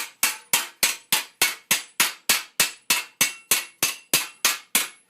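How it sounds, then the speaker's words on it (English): A smith's hammer rings sharply on a steel greave laid over an anvil, shaping late 14th-century armour: about fifteen evenly spaced, bright metallic strikes, each with a short decaying ring, close and loud with no talk. "I always want the sharp sound because I'm trying to trap metal between my hammer face and the anvil surface that I'm using"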